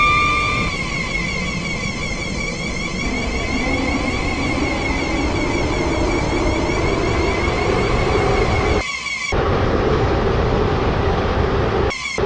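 A train in the Roblox-style game Stepford County Railway runs on the route from Stepford Town to Port Benton, with a steady loud rumble and whining motor tones, briefly cut by two short gaps near the end.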